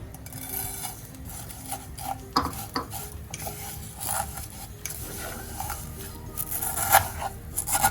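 Vermicelli roasting in oil in a pan is stirred with a spoon, giving soft scraping and clinking against the metal and a faint sizzle underneath, close by with no speech.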